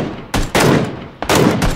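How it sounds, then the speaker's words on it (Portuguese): Gunfire in the video game PUBG, two loud, close bursts of shots separated by a short pause, each with a sharp attack and a brief rumbling tail, with no talking. "Eu vou dar um tiro na árvore."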